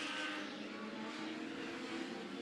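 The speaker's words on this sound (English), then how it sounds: "Those are 2 wicked fast race cars right now" Legends race cars roaring around Rockford Speedway during a feature race, a dense, continuous engine drone with no break as the field runs close together.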